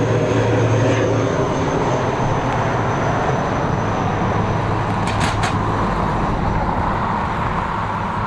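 An ATR turboprop airliner at Dublin Airport near runway 28R produces a loud, continuous propeller and engine drone that fills the whole clip at steady strength.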